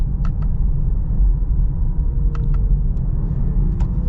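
A 2022 Jeep Grand Cherokee L Overland in manual mode shifts gears while driving, giving a steady low cabin rumble of engine and road with small, quick changes in tone as each shift passes, and no talking.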